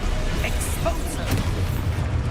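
Expulso explosion spell from Hogwarts Legacy, a booming burst with crackling debris over dense game noise, loud and close, with a voice speaking over it.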